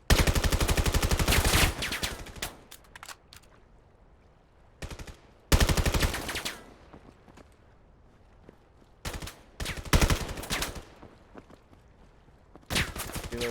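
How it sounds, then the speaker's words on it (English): Rapid automatic gunfire in the video game Crest League, loud bursts of shots repeating in several long volleys with short quiet gaps and scattered single shots between them. "Shots coming out."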